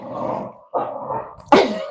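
Puppies barking nearby in three short, sharp bursts of yips, each burst separated by a brief pause.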